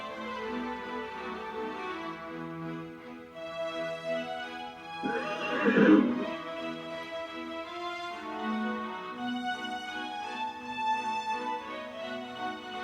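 A horse whinnies once, rising and falling, over a sustained musical background.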